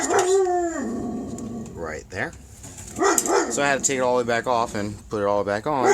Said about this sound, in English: As you can hear the dog in the background.